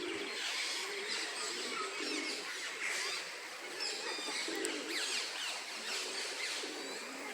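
Birds call in a Düsseldorf bird park, a busy outdoor mix of chirps and honk-like cries over a constant background wash, moderately distant and fairly faint.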